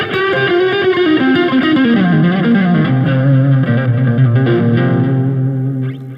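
Electric guitar lick from a worship song, played with distortion and effects, a fast run of notes settling into sustained bent tones, loud and alone for about six seconds.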